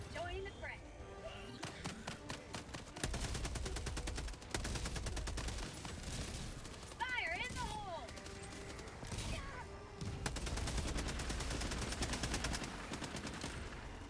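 Rapid machine gun bursts in a video game crackle steadily through most of the stretch, layered with other game effects and a person talking over the action.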